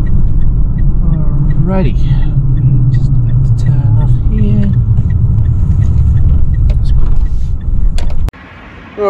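A car drives along a road toward the beach, a loud, steady close-up engine and tire rumble from inside the vehicle that drops abruptly near the end as it pulls over; someone speaks briefly over it.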